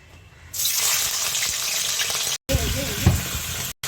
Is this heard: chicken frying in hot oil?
yes